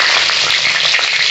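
Bay leaf and dry red chilli hit hot oil as tempering for a jackfruit curry. A loud, steady, close sizzle crackles without pause for the whole brief moment.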